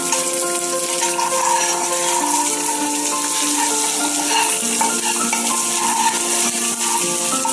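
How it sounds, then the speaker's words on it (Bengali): Peanuts fry lightly in ghee with a steady, close sizzle. A stirring scrape runs underneath, along with a sustained tonal hum, and no one speaks. "এই যে ঘিতে অল্প একটু বাদাম আর এটাও হালকা ফ্রাই করে নেব।"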